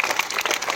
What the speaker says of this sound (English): Please give a very big clap for Naman.